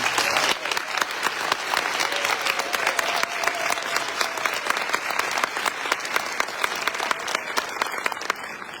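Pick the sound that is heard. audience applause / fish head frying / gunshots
audience applause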